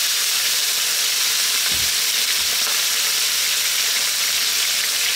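Cooked pork liver and garlic sizzle in a pan, a loud steady crackling fry with a couple of soft thuds as the pieces are moved.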